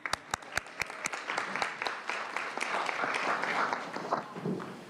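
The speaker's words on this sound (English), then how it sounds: "Give you a round of applause for that." Applause at a county board of supervisors meeting, opening with a few sharp individual claps that quickly fill out into moderate, steady clapping from a room of people, slowly thinning toward the end.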